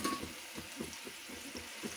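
Pieces of rohu fish dropped into a boiling tomato ketchup gravy give a faint, soft bubbling sizzle with gentle rhythmic pulses.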